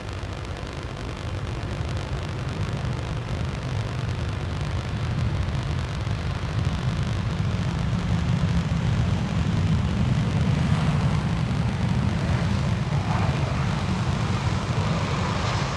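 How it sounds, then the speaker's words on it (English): Tarom airliner from Bucharest arriving at Schiphol airport, a steady broad jet engine roar that slowly swells and holds, loud and fairly close, with no talk. "Tarom arriving from Bucharest."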